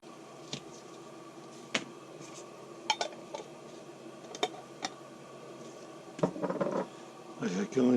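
Metal wrench being degreased at a kitchen sink, with sharp clinks and taps of metal against the basin and short bursts of running water and scrubbing toward the end, close and fairly quiet.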